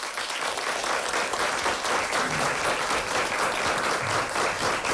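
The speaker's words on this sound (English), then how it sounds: "Give them a big round of applause." A steady, dense round of audience clapping at a high school quiz bowl match, loud and even throughout with no voices over it.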